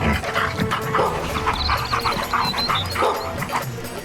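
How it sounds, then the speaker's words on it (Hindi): A cartoon dog in a Hindi animated comedy story yips and barks several times in quick bursts over a busy soundtrack of background music and effects. "तभी वहाँ एक कुत्ता आया"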